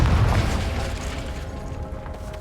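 A Confringo fire spell blasts in a Harry Potter video game, a loud low boom that bursts at once and then slowly rumbles away.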